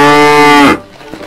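A cow gives a single loud, close, harmonically rich moo lasting just over half a second, then falls off into quiet.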